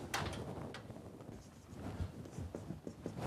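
Eraser rubbing writing off a board during an engineering lecture, a series of scuffing swipes of varying strength, close and fairly quiet, with no talking.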